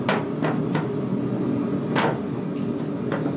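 Steel forging hammers of 1 kg, 1.6 kg and 2.85 kg, used to forge a tanto knife, knock and clank against each other. About five sharp, separate knocks sound at close range over a steady background hum.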